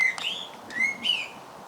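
Birds singing in a garden, a few short clear whistled chirps and rising notes close by with quiet background and no talk.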